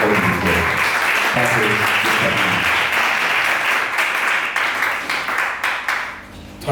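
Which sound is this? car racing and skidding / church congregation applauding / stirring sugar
church congregation applauding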